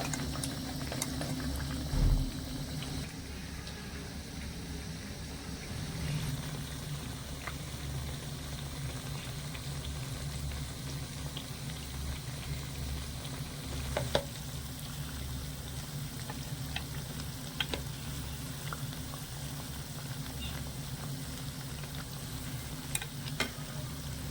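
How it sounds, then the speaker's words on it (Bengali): Khaja pastries made from flour and sugar fry in hot oil with a steady, close bubbling sizzle that holds evenly throughout, broken only by occasional faint pops, with no voices. "এখানে আমি কিছুটা খাজা ছেড়ে দিয়েছি এবারে হালকা আছে ভেজে নেবো"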